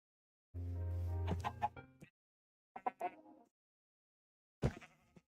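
A few short, bleating sheep calls in Minecraft with pauses between them, clear and close, with no talking.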